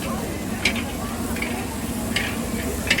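Makassar-style red fried rice is stir-fried by a machine at a street food stall, a steady loud sizzle with a few sharp scraping clinks of the stirring paddle against the pan.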